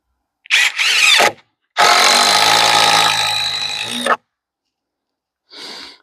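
A power drill drives timber lock screws into softwood: two bursts of whirring, a short one then a long steady run of about two and a half seconds, then a brief final whir, close and loud.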